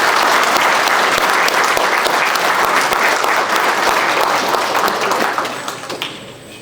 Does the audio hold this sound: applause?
yes